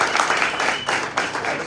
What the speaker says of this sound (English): How about a round of applause for Ana?